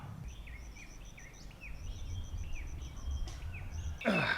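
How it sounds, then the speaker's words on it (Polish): Birds sing outdoors in the Philippines, a repeated chirping call over low background rumble, ending with a brief louder rustle. "Mam nadzieję, że ptaki nie będą przeszkadzać"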